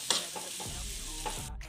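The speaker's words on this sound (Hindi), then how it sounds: "अब इसको अच्छे से मिक्स कर देंगे" Samosa filling being mixed in a pan, a soft sizzle with a few quick scraping strokes of a spoon, close and brief, with no talking.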